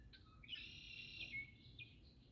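Faint, high squeaky calls come from small flocking birds, smaller than crows, in early morning in Houston, Texas, with a few overlapping whistled notes against quiet low background noise.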